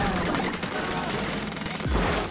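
An ink weapon fires at the Octostomp boss in Splatoon 2: a steady, loud, rapid stream of splattering shots runs without pause, with a heavier thud near the end.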